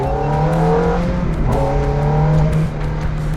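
A Ferrari's engine roars loud and close as it is driven hard along Mulholland Highway, a winding Hollywood road, with a steady high-revving drone that shifts pitch mid-clip and a hint of tire squeal.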